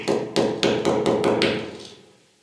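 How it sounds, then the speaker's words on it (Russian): A run of about eight sharp metallic taps on bathroom tile in quick steady succession, a drill bit used as a punch to notch the surface, close and ringing, fading out after the last strike. "делаю небольшую насечку"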